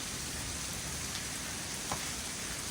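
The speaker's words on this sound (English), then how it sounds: "Hailstorm? Yeah, look at this." Hail pelting down during a backpacking trip in the Lost Creek Wilderness, Colorado, a steady dense hiss of small impacts filling the scene from close by, with no voices.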